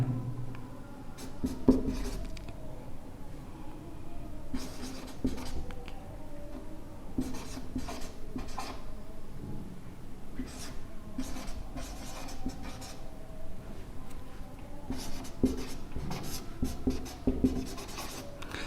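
Chalk or marker writing on a board, a steady run of short scratchy strokes in bursts with pauses between, close and fairly quiet.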